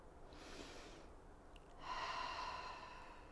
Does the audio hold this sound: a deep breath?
yes